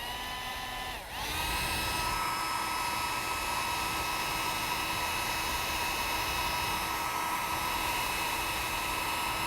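A small, cheap hand-held hair blower dries a whittled wood carving with a steady, close whirring whine and airy rush. After a brief dip near the start, it runs on unbroken with no voices.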